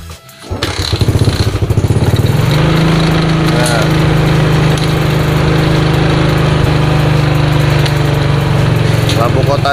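A Yamaha Jupiter MX motorcycle engine cranks and catches after a short silence, then settles into a steady, loud, close idle that runs to the end with a constant low hum.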